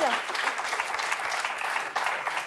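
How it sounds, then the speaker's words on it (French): A studio audience at a French political television programme applauds steadily, a dense, continuous clapping that holds level throughout. "vous méritez vraiment des applaudissements"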